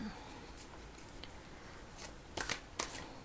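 Oracle cards are shuffled for a reading, a soft close riffling under low background hiss, with a few sharper snaps near the end.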